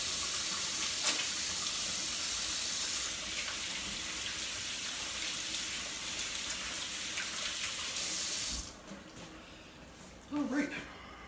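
Tap water runs steadily into a kitchen sink during hand washing while preparing rumaki, a broadband rushing flow that cuts off sharply near the end, followed by a brief splash.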